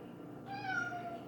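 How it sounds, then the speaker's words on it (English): A pet cat named Dharma gives a single drawn-out meow at close range, rising then tailing off in a quiet indoor room, alone without talk. "Yeah, that would be my cat."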